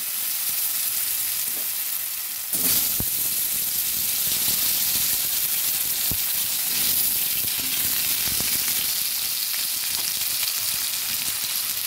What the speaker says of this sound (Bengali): ওই কড়াইতেই আমি আলুগুলো ভেজে নেব